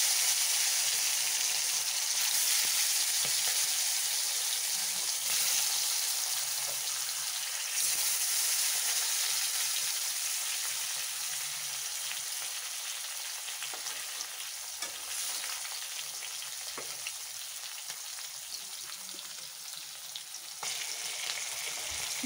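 Foli fish frying in hot oil, a steady, loud sizzle with crackling spatters that holds for over twenty seconds, fading slightly toward the end, with no voices.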